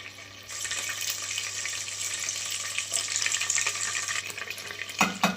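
Crushed garlic frying in oil with cumin, mustard seeds and coriander for sambar, a continuous close sizzle that swells after a quieter start, with brief stirring clatter near the end.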